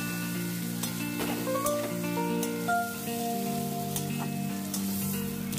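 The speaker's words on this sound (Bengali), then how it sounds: "লবণ হলুদ দিয়ে আমি আর কিছুক্ষণ নেড়ে নেব।" Potato and red amaranth stems stir-fry in oil with salt and turmeric, crackling in a continuous sizzle broken by occasional scraping stirs, close up, over a steady tonal background hum.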